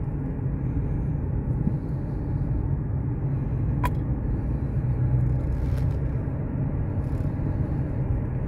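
A Dodge Challenger cruises on the freeway, its engine and road noise forming a steady, loud low rumble that holds evenly throughout with no talk.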